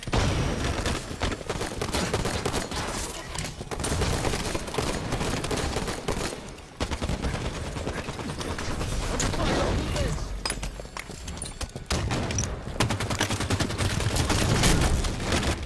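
Video game battle with dense, continuous gunfire, automatic bursts and booming explosions, loud and steady throughout with a brief dip near the middle and a heavy barrage toward the end.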